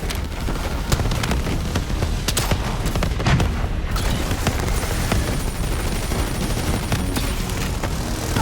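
Dense, loud, nonstop gunfire and booming explosions fill a Call of Duty Black Ops 3 campaign firefight on PS4, a heavy wall of battle noise with no clear pauses.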